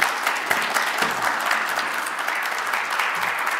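An audience at a talk on Italian fashion heritage welcomes speaker Matteo Aguello with steady, dense applause that fills the room and continues without a break.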